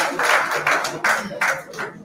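An audience at a press meeting claps in short bursts of applause, about five uneven waves of hand claps close by, with brief dips between them.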